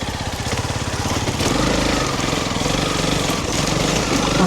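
A Honda CRF300 Rally motorcycle on a rocky Thailand trail gives a loud, close single-cylinder engine drone with a fast pulsing beat, holding steady as the throttle rises slightly partway through, while wind and rough-ground noise run underneath.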